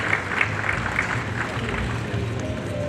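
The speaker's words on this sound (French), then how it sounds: "sous vos applaudissements, s'il vous plaît" Audience applause after an agreement signing at a ministerial water and agriculture event, a steady, dense wash of clapping with faint voices under it.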